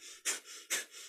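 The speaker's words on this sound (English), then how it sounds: "Now a breath of fire to blast out any toxins." Two sharp, forceful nasal exhales of the kundalini yoga breath of fire, a rapid panting breath through the nose, come close and alone, each a short breathy burst with a quieter airy hiss between.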